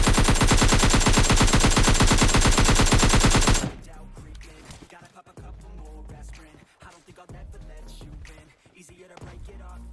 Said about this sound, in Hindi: मैं सीधा वहां पर भागता हूँ जहां से फायर शॉट्स के साउंड आ रहे थे